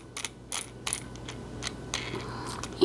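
A bolt is loosened on a Beadalon bead tying station, giving a string of soft, close metallic clicks and ratcheting ticks at irregular intervals over a quiet background.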